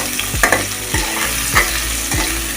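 Chopped onions and a fish head fry in a pan with a steady sizzle, broken by about four scraping stirs of a spatula at regular intervals, close and fairly loud.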